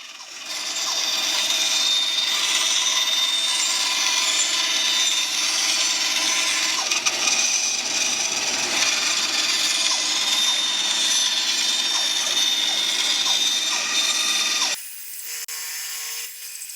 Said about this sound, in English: shape the fretboard on my Craftsman 13-inch bandsaw. I'm just going to cut off the end here and then run this down and cut off any waste